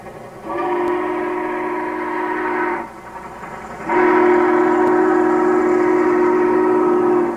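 Southern Pacific 4449 Daylight steam locomotive sounds its loud, sustained chime whistle in two long blasts while leaving town, the second blast stronger and held to the end.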